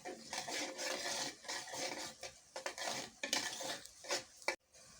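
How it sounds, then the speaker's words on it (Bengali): Spices being sautéed in a pan are stirred with quick scraping strokes of a spatula, with a soft sizzle underneath, close and continuous, ending with a final knock on the pan. "মশলা কষিয়ে নিচ্ছি, এখন তরকারিগুলো ছেড়ে দেব।"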